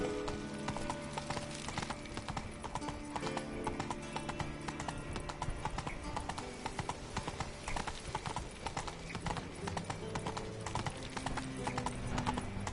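Horse hooves trotting in The Witcher 3, a steady rapid clip-clop running throughout alongside game music, close and even.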